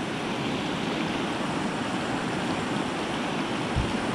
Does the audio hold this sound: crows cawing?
no